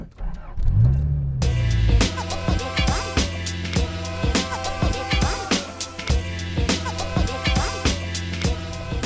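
A totaled 1985 Toyota MR2 engine turns over and catches, then runs with a loud, close, uneven rumble and repeated revving bursts as the car begins to drive.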